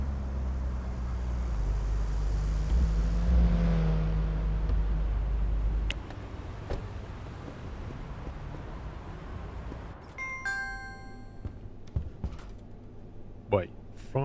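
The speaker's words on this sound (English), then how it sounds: "Whoa, crazy Porsche." A Porsche sports car in the game Big Ambitions passes close by with a loud, deep engine rumble for about six seconds, then fades into softer street ambience.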